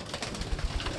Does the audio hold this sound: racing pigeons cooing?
yes